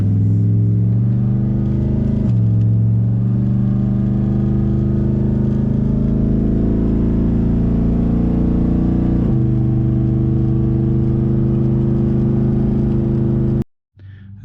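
A Chevrolet LQ4 6.0-liter V8 fitted with Texas Speed cylinder heads and camshaft idles loudly and steadily up close, its low lumpy rumble shifting slightly in pitch a couple of times before cutting off abruptly near the end.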